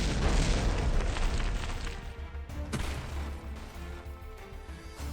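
Missile explosions in the naval combat game From the Depths, a loud booming blast at the start trailing into rumbling debris and a second crashing impact, close and heavy with no talk.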